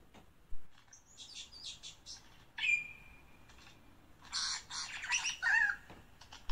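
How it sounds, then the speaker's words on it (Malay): Bird of paradise (cenderawasih) calling in a string of sharp, high chirps and squawky bursts, one drawn-out whistled note midway, fairly close and loud against a quiet background with no talking. "Lagi dia kembang-kembangkan sayapnya sambil berkicau-kicauan ya."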